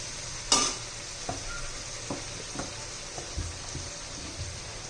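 Pieces deep-frying in hot oil for a chole bhaji meal are flipped over, with a bright clink of a utensil on the pan followed by soft taps and scrapes over a continuous bubbling sizzle.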